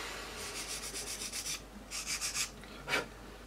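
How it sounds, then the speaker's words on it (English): Close, quiet rhythmic rasping of a sanding stick on a small hard plastic part from a 1/48 P-51D Mustang model kit, several quick light back-and-forth strokes in short bursts with pauses. "I'm just letting the sanding stick do the work."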